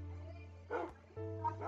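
Dogs in the Minecraft video game let out two short bursts of yipping barks, the first brief and the second a little longer, over a steady low in-game hum, with no one speaking.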